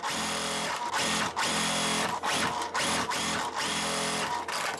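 A sewing machine stitches quilt block seams for a pieced basket block in bursts of steady whirring, pausing briefly between runs, close and loud with no talking.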